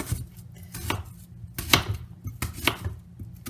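Knife chopping onion pieces on a board for chicken and chickpea shawarma, a steady run of close, sharp thuds, about two per second, with no talking.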